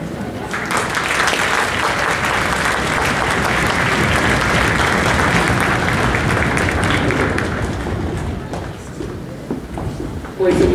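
Sustained applause from a school audience at a Christmas concert, a dense, loud crowd clapping that holds steady for most of the stretch before thinning, with scattered foot stamping and voices mixed in.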